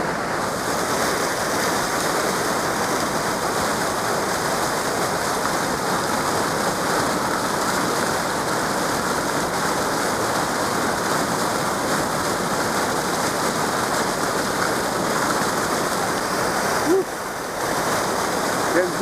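A Swiss waterfall roars and splashes up close, a dense continuous rushing wash of water that stays loud and even throughout, with a brief dip near the end.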